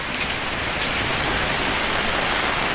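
Steady, dense rain falling during a tropical storm in Pangasinan, Philippines, a constant hissing wash with no voices, loud and close throughout.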